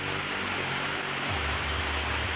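Heavy rain pours down in Quezon Province, Philippines, in a dense, steady roar with no pauses, loud and continuous throughout.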